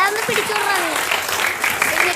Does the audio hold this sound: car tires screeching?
no